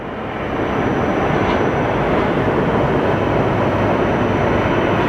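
A Delta Air Lines jet takes off at Sky Harbor Airport, a loud, broad roar that swells in quickly and holds steady, heard from fairly close by.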